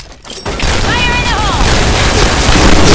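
Grenade blast in a shooter game, a heavy booming roar that starts abruptly and sustains as a loud, dense rumble with gunfire and a voice mixed in.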